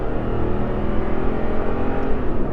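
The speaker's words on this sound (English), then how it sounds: "This specific truck has an aftermarket Flowmaster exhaust, and so it's got a really nice exhaust note" A 2011 Toyota Tundra with an aftermarket Flowmaster exhaust accelerates with a steady, deep, continuous roar that stays loud and even throughout, close by with no talking.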